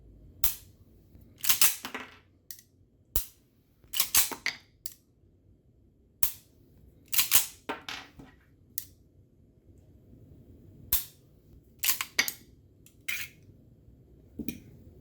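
An AMT Hardballer 1911 pistol in .45 ACP being dry-fired: crisp, close mechanical clicks from the trigger and action, arriving singly and in quick clusters at irregular intervals over a quiet background.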